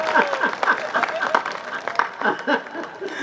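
Scattered audience clapping with some chuckles at a Hindi kavi sammelan poetry gathering, uneven bursts rising and falling, with voices talking over it.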